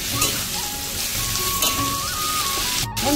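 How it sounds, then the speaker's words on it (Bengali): Taro leaves (kochu shak) fry in a pan with a steady, close hiss and crackle of sizzling oil that runs the whole time, with no talking. "আমার কচু শাকটা একদম পুরো ভাজা হয়ে গেছে"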